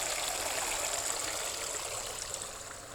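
Steady hiss of water flowing and splashing from a pool filter pump into a pool, continuous and close, with no voices.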